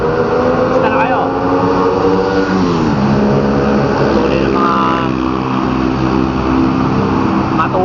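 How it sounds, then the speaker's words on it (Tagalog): Loud engine drone from vehicles with aftermarket exhaust pipes, a rising and falling rev that stays close and continuous, with someone talking over it. "saka ang ingay ng mga pipe nila"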